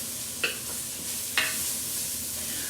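Stew meat sautéing in an Instant Pot electric Dutch oven gives a low, steady sizzle with two brief scraping stirs, close and quiet, with no voices.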